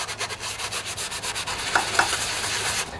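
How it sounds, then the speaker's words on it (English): A medium-to-fine grit sanding sponge rubs back and forth over a part from a Briggs and Stratton OHV Intek engine, making quick rhythmic scratchy strokes close up, with two small clicks near the end. "I'll get my sanding sponge here and I'll just do a little bit of this action."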